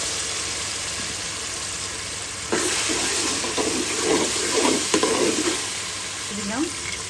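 Ginger garlic paste hits whole green chillies frying in a pan for a chicken and new potato curry; a steady sizzle surges louder when the paste goes in, with spoon stirring and scraping.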